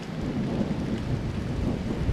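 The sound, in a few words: thunder from a passing storm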